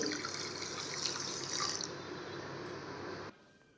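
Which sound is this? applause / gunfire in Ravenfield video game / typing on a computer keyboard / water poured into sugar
water poured into sugar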